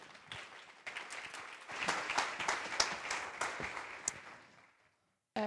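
An audience claps in a sustained burst of applause that swells, then fades out before a brief cut at the end.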